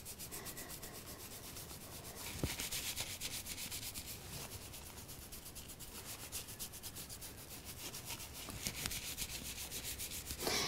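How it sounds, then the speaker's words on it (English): Quick, continuous rubbing of a scalp during a hair shampoo, a soft, close scratchy friction with a fast, even rhythm, quiet and heard alone without speech. "They're very, very quick rubbing movements."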